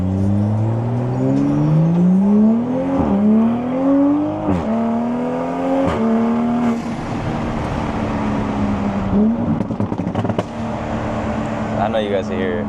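Toyota MK5 Supra fitted with an aftermarket downpipe, accelerating hard in sports mode while cruising. Engine tone climbs steeply through several rapid upshifts, each marked by a brief dip before the loud, droning exhaust pulls again.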